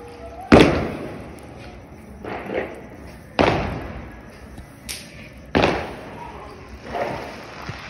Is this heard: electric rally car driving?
no